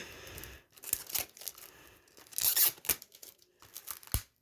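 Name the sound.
tearing open plastic wrapping of a CD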